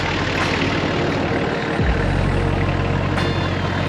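A 4WD engine drones steadily and close while driving through the sandy desert country of Little Desert, with a deep, constant low rumble and slight shifts in pitch.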